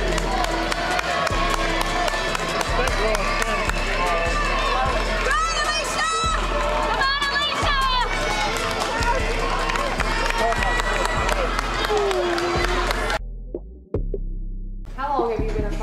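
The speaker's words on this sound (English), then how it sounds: "Cheer them on as they come in." A crowd cheers and claps loudly as a cross-country team comes in, a dense continuous roar with whoops and babble that drops away abruptly near the end.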